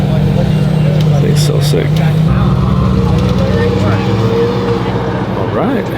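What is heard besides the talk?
Ferrari LaFerrari supercar driving out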